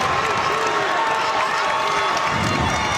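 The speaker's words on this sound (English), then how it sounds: "And that got the Wildcat crowd going." Home crowd of Wildcat fans cheering and shouting at a high school basketball game between Enterprise and Dothan, a dense, loud, continuous roar of voices filling the gym for the whole stretch.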